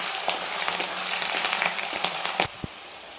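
Raw potato pieces fry in hot oil with a steady, bright sizzle. The sizzle drops off near the end, and a couple of sharp knocks follow.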